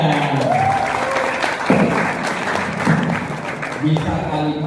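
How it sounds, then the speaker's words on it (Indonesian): An audience of university students claps at a faculty orientation event, a sustained, moderately loud patter of hands mixed with crowd murmur and voices throughout. "Tepuk tangan."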